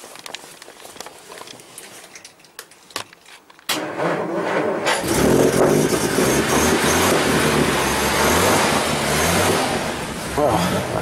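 A classic car with a mechanical fuel pump cranks several times with sharp clicks, then catches and starts, settling into a loud, steady running engine with slight revving, heard close up.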